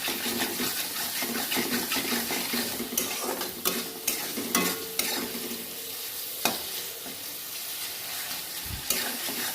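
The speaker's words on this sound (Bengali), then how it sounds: "এর মধ্যে দিয়ে দেবে এবার কাঁচা চিংড়ি মাছগুলো, দিয়ে মশলাটার সাথে ভালোভাবে মিশিয়ে নেবে।" Raw prawns being stirred into spice paste in a hot pan for a prawn curry, giving a steady loud sizzle with scraping and knocking from the spoon or pan at irregular moments, close up and with no voices.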